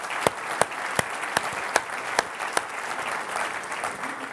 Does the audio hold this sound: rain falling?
no